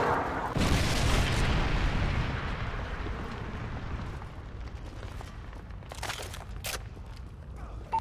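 A Predator missile strike in Call of Duty lands as a loud, heavy boom that rolls into a long, decaying rumble, followed by a few sharper bursts and crackles of gunfire in the background.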